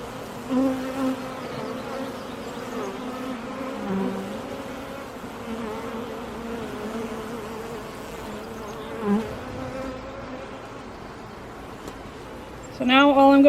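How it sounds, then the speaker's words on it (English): A steady, close drone of many honeybees buzzing continuously at a beehive, with a few brief sounds rising over the hum. "This thing's covered in bees because they're all going after her pheromone."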